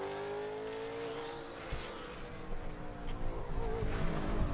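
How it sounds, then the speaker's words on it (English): A race car engine drones and revs steadily during 2021 Verizon 200 qualifying, with a rough, juddering stutter from wheel hop as the car brakes and accelerates. "Yeah, I think he's wheel hopping a little bit there."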